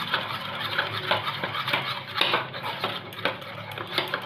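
A spoon scrapes and clinks in a bowl while rice starch water and tea leaves are stirred into a medium-thick paste, giving close, repeated uneven taps and scrapes with no voices.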